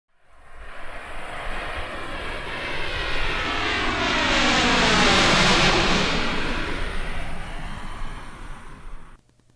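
A fixed-wing airplane engine roars steadily on an airport tarmac in Bangkok, a broad loud rushing drone that swells to a peak midway and then eases off, with no talking.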